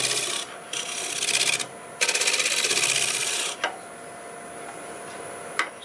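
A wood turning tool cutting a log on a lathe over the tenon, a harsh scraping rasp in pulsing bursts as the tool rides the spinning wood, then quieter rubbing, close and without talk.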